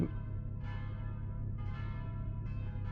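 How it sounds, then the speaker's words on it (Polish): Church bells ring in the video game Mon Bazou, with several distinct strikes spaced about a second apart, each leaving a long shimmering decay over a steady low background hum. "Dzwony."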